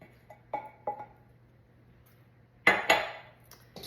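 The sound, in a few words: scraping a bowl with a spatula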